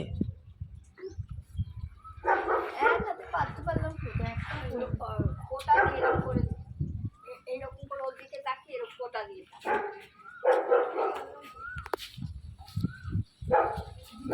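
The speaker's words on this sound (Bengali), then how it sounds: "শোনো আমার ডগি ডগি ডগি" A pet dog barks and yips in short bursts outdoors near a mango tree, close by, interleaved with people talking, then quieter whimpering noises later on.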